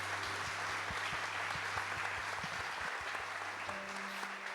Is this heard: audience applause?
yes